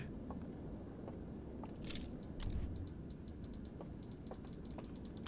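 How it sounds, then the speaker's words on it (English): Rapid, desperate mouse or keyboard clicking at a computer during gameplay, a fast irregular run of sharp clicks close up over a steady background hiss. "Can you hear me like desperately clicking, trying to like make something happen here?"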